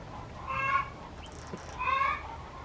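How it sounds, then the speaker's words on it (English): Backyard hens give two loud, drawn-out clucking cackles, one after the other, the kind of cheering calls heard when a hen lays an egg. "Our chickens like to cheer each other on."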